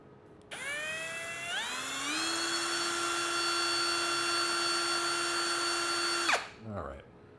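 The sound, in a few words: drill pre-drilling holes for screws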